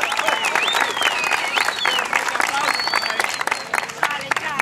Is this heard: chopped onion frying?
no